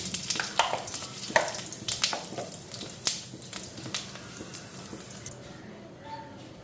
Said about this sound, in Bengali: তো এই যে জিরা ফোড়ন দিলাম